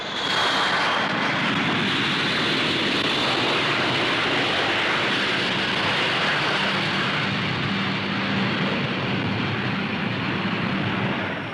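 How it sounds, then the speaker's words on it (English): Four Bristol Siddeley Olympus jet engines of a large delta-wing bomber roar continuously as it climbs at an air show, a loud, broad rushing thunder with a high whine, sustained without break throughout. "its four Bristol Siddeley Olympus jets hurl the huge machine into the sky"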